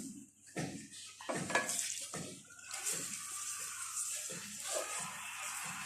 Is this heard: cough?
no